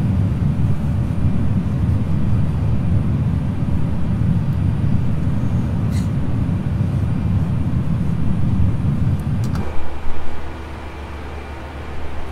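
A FlightFactor A320 airliner accelerating in its climb in X-Plane 11, a steady loud low engine roar held for about ten seconds before it drops to a quieter hum after a brief click.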